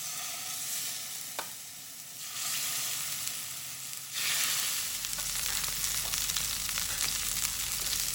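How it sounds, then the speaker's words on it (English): Marinated shish taouk chicken cubes sizzle steadily in a hot pan, a bright continuous crackle that swells louder partway through as more pieces hit the oil. "So we're going to add those into the pan and cook each side for 2 minutes."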